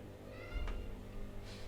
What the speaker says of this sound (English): Sorry, I need to let my cat in.